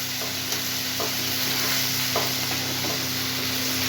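Capsicum and potato pieces fry in a home kitchen wok with a steady, dense sizzle, broken by occasional scraping stirs of a spatula, all close up with a low electrical hum underneath and no talking.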